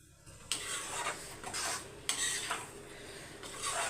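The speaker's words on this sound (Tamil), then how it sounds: "தக்காளியை சேர்த்துட்டு அப்படியே மிக்ஸ் பண்ணி விட்டுருங்க" A spoon stirs chopped tomato through Chennai village-style sankara fish curry in a pan, making repeated scraping strokes in an even rhythm. The sound is close and moderately loud, with no voices.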